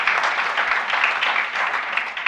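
Audience applause at a leadership event, a steady dense round of clapping from a crowd filling the space, moderately loud and continuous.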